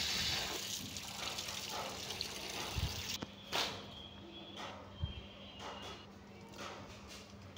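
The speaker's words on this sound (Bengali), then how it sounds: "প্রথমে ভালো করে ধুয়ে নিচ্ছি পাতাগুলোকে।" Taro leaves being washed in water make faint, intermittent sloshing and splashing with a few soft knocks against a quiet background.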